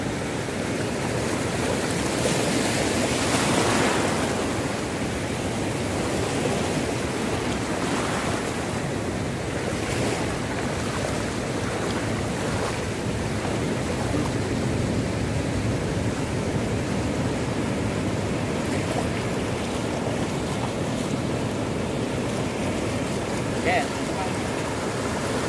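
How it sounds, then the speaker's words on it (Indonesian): Big surf pounds the coral shore at Legon Pari beach, Sawarna, at high tide: a continuous loud roar of crashing waves with wind buffeting the microphone. "karena tuh gelombangnya gede, ini air lautnya juga lagi pasang tuh ya, lagi deras banget."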